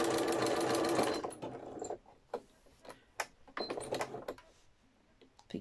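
Sewing machine running a wide zigzag stitch around a quilt-as-you-go needle case, a steady dense whirr for the first two seconds, then short separate bursts and ticks as the needle is worked in brief runs.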